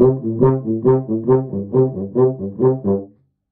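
A tuba repeats low notes in a quick, even sixteenth-note pattern, about eight bouncy pulses, played alone at moderate loudness before stopping cleanly.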